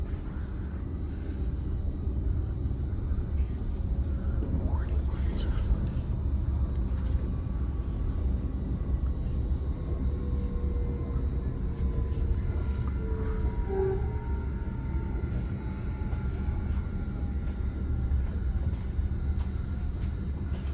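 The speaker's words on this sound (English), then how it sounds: "Here we are pulling into Santa Clara University Station" Caltrain southbound local passenger train pulling into Santa Clara University Station, a steady interior rumble of the moving train with faint squeals as it slows, no talk.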